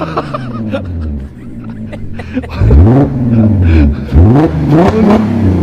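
A Porsche Cayenne engine with an aftermarket exhaust revs hard, rising and falling in pitch through several loud, close-up bursts of acceleration.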